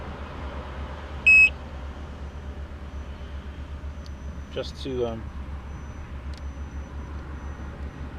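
A Gotway Msuper V3 electric unicycle gives a short, loud electronic beep early on, with a few fainter chirps later, over a steady low hum, while someone speaks briefly.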